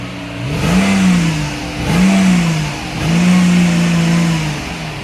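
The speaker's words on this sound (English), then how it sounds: "Here's the idle sound of a stock exhaust. And then Chris is going to give it a couple revs for you guys." A Mercedes-Benz W211 E500 V8 with a stock exhaust rumbles at idle, then revs up three times in quick succession, each deep roar rising and falling back, close and loud.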